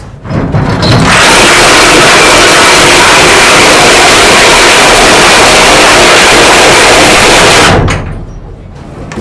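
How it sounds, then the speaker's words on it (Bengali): Engine noise from a cruise ship anchoring in the Sundarbans, a loud, close, roaring wash that swells in, holds steady for several seconds and then drops away near the end. "জাহাজ নোঙ্গর করা হচ্ছে, খুবই ভয়ানক দৃশ্য।"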